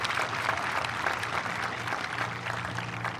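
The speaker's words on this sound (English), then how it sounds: "Please join me in giving a round of applause to those students." Graduation ceremony crowd at a Legacy Magnet Academy commencement applauds the senior class, a steady wash of distant clapping from a large audience, fairly faint and continuous.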